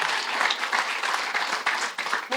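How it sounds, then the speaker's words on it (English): A conference audience at a financial literacy and life skills training event gives a round of applause: dense, full clapping from many people that carries on steadily at a fairly strong level throughout. "a round of applause for her once again"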